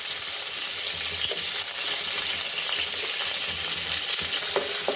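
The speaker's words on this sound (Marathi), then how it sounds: "सर्व साहित्य परत एकदा एकजीव करून घ्यायचं आणि कांदा थोडासा भाजून घ्यायचा" Finely chopped onion frying with black peppercorns and cloves in a pan, a loud continuous hissing sizzle with a few faint stirring clinks, close and with no voices.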